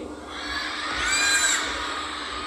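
A crowd of children at a Hot Wheels Monster Trucks Live glow party show shouts and cheers loudly to wake a monster truck, a sustained roar that swells toward the middle and then holds.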